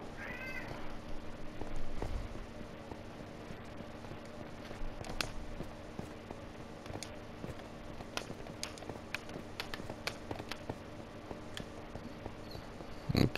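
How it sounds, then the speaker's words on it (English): A tomcat meows repeatedly and persistently, the calls rising as short harmonic bursts scattered through the clip over a steady low background hum, with no talk. "Tomcat. Ah, it's so annoying. It's meowing. He doesn't stop."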